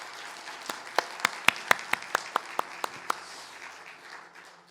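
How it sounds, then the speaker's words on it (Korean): A church congregation gives applause as a faint run of about a dozen sharp, evenly spaced claps in a steady rhythm, which then fade out. "우리 한번 박수로 환영해 주시기 바랍니다."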